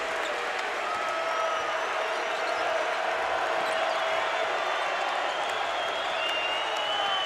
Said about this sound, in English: the capacity crowd trying to let Utah State have it